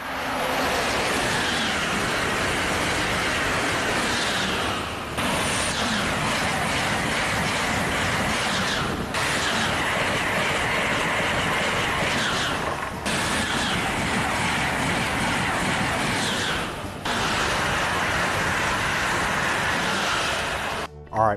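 An Amtrak Acela Express high-speed train runs past in a steady loud broadband roar lasting about twenty seconds, with brief dips every few seconds as it goes by.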